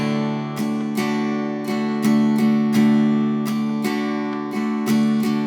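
An acoustic guitar strums a bouncy rhythm pattern, with crisp down and up strokes in a repeating syncopated cycle, close and steady with no talking.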